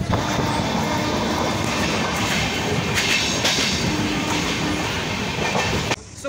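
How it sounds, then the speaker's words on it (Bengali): A train pulls out of Kanpur station and runs along the rails, giving a loud, steady rumble with continuous wheel clatter close by and no voices. "ফাইনালি কানপুর থেকে ট্রেন ছেড়ে দিয়েছে"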